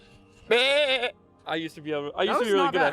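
A person imitates a goat call in a forest: two bleating, wavering vocal bursts close to the microphone, loud and nasal, with a short pause between them.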